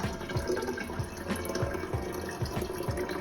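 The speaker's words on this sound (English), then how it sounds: "It's very easy to fill up the water." Water pours steadily into the water tank of a Nosh automatic cooking machine, a soft continuous splashing and gurgling with faint rhythmic pulses, quiet and close, with no talking.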